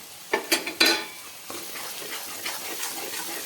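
Tomato, onion and masala being sautéed for a raw papaya curry, with a few sharp spoon clinks against the pan at the start, then soft stirring and a faint sizzle.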